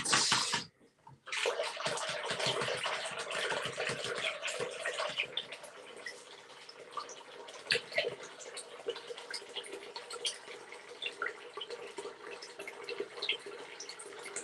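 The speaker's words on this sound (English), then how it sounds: "I'm using hot water because boom opens up the pores of the skin." Hot water runs steadily from a tap into a basin for shaving, a continuous close splashing rush after a brief gap at the start, with scattered drips and clinks.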